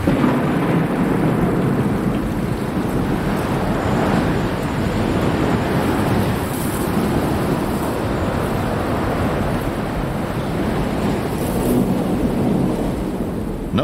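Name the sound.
monsoon thunderstorm with hard rain in the Sonoran Desert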